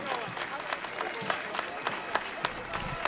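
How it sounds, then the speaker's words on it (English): Crowd applause at a 2017 Memorial Day service and parade in Dunkirk, New York, honoring three World War II veteran grand marshals, steady outdoor clapping with a few sharper claps standing out over a murmuring crowd. "Again, a special round of applause."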